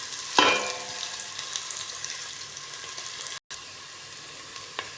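Garlic hits hot oil in a pan of frying fish adobo, setting off a sudden loud sizzle that settles into a continuous bright hiss with faint stirring underneath.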